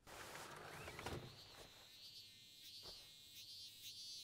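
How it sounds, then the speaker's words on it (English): A faint, high insect chirr trills steadily in the background, with soft rustles and knocks nearby and no talking. "That bug sound."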